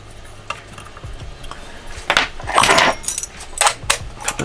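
Metal parts of an Ahsoka Tano lightsaber prop hilt clink and scrape as a piece is screwed back on, a run of light jangling and grinding ticks that grows busier after the first two seconds, close and alone.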